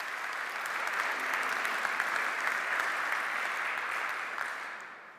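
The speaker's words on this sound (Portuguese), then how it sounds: "Uma salva de palmas" Conference audience at a 5G cybersecurity industry event claps for a speaker, a steady burst of applause that builds slightly and fades away at the end.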